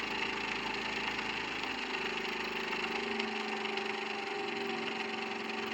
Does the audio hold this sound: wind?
no